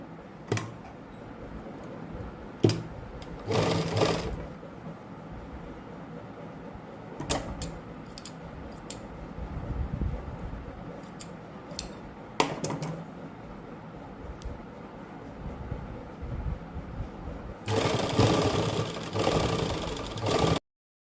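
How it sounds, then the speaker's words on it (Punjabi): A sewing machine stitches lace onto a dupatta in short, intermittent runs of mechanical whirring, separated by clicks and brief pauses, fairly quiet and close. "ਇਸ ਤੋਂ ਬਾਅਦ ਉੱਪਰ ਆਪਾਂ ਸਲਾਈ ਲਾ ਲਾਂਗੇ"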